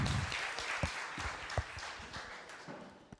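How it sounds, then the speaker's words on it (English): Audience at a tech conference talk on documentation clapping and cheering, a fairly faint, scattered applause with a few sharper individual claps that tapers off toward the end. "So please, round of applause, and we start."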